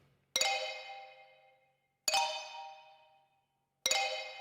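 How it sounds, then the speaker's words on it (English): Three bright, single mallet strikes from a xylophone in a free Spitfire Audio orchestral plugin, each ringing and decaying cleanly over about a second and a half, evenly spaced and alone. "I think this is a xylophone"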